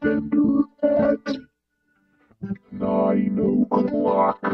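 A voice put through an Electro-Harmonix Iron Lung vocoder pedal with its gender bender control at 9 o'clock comes out processed and distorted in choppy phrases, with a short pause in the middle.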